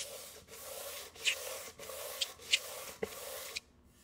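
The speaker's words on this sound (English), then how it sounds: "We're going to sand gently." Painted wood is gently sanded by hand in a series of soft, rhythmic rubbing strokes, with small scratchy accents between passes, close and fairly quiet, ending with a brief pause.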